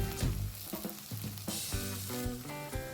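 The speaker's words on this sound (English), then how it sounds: "Once the oil is hot, add the finely cut onions. Stir it nicely." Finely cut onions frying in hot oil for a chicken curry, a close, bright sizzle broken by scraping stirs of a spoon against the pan at irregular moments.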